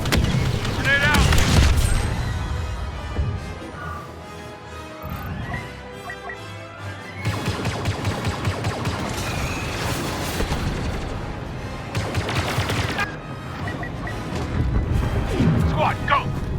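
A grenade detonates amid a Star Wars Battlefront II battle on Hoth, with heavy booms and crashing impacts over dense combat noise, and voices shouting nearby.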